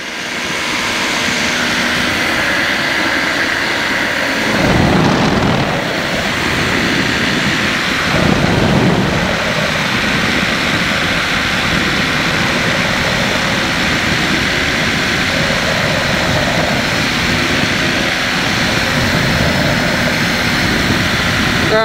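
Light aircraft engine droning steadily in flight on a purposeless pleasure flight, a loud continuous close hum with wind buffeting and slight swells, no break throughout.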